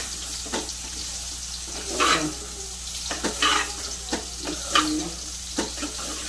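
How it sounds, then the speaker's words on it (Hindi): A glass of water poured into a pan of bitter gourd and chana dal for a Hyderabadi curry, giving a few splashing, sizzling bursts over a steady low kitchen hum, with no one talking. "अब इसमें ना 1 गिलास पानी डाल रही हूँ करेले और चने की दाल गलने के वास्ते।"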